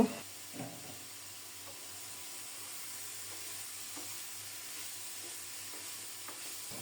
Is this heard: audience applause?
no